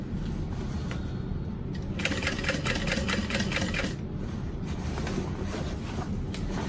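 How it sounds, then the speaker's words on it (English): Sewing machine stitching through the pocket panel of a fabric duffel bag, a steady mechanical whir that rises into a faster, louder run of rapid needle strokes for a couple of seconds before settling back, no talking. "I am sewing through my pocket panel, but only because I want to just make sure it's not like saggy in the bag"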